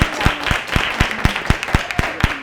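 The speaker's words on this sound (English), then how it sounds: "So let's have a round of applause." Audience applause at a Harris for President campaign event in Philadelphia: a small group claps in a fairly regular rhythm of distinct, loud individual claps, close by, with no talk over it.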